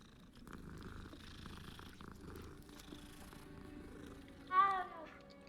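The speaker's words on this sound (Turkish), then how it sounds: "O ses kediden mi çıktı?" Purring from a cat in the Hogwarts Legacy video game: a quiet, continuous rumble under low background ambience, with a short, louder mewing call breaking in near the end.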